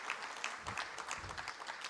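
Applause from a conference audience honoring a medical research team that performs minimally invasive tissue sampling, a steady patter of clapping filling the room at moderate volume with no voices over it.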